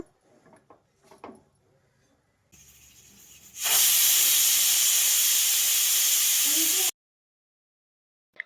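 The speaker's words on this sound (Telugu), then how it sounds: "కుక్కర్ మూత పెట్టి వన్ అండ్ హాఫ్ విజిల్ వచ్చే వరకు పెట్టండి మీడియం ఫ్లేమ్లో" A pressure cooker of pigeon peas curry on a medium flame lets out a loud, steady steam hiss that runs for about three seconds and then cuts off sharply. Quieter kitchen clatter comes before it.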